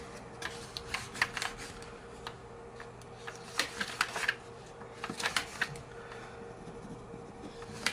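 Drawing paper is flipped back and forth to check a character model, giving soft, irregular papery flicks and rustles, some in quick clusters and others spaced apart, fairly close and quiet, with no talking.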